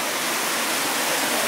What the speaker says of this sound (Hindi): ये देखिए पानी गिर रहा है